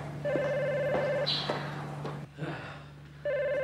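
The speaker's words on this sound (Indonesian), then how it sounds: "Telepon tuh." A telephone rings in warbling electronic bursts, two rings separated by a pause, fairly close, with people talking over part of it.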